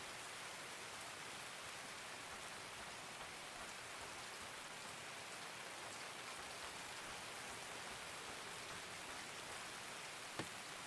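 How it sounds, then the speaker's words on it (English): Steady rain in the Escape from Tarkov game world, a dense, even hiss of drops on surfaces filling the whole stretch without pause, with one faint sharp tick near the end. "God, this fucking rain though."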